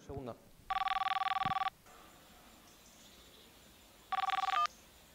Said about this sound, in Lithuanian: kad Dievas tau paskambins telefonu